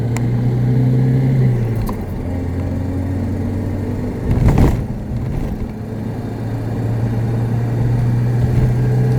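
A BMW E30 3 Series with the 1.8 liter M40 engine drives along, its steady mid-pitched engine drone heard from inside. The note dips briefly, a short rushing burst passes midway, then the even hum resumes.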